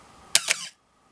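A Canon AE-1 Program 35mm film SLR fires its shutter once at 1/500th, a crisp close mechanical clack-clack followed by silence.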